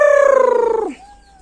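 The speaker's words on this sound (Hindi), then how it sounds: "देखो यहाँ पे मुर्गियां हैं, अलर्ट मुर्गी हैं, बड़े मुर्गी हैं जो अंडे देते हैं।" A desi egg-laying hen on a village-style poultry farm gives a single close, loud, drawn-out call that slides downward and then breaks off, with quiet surroundings.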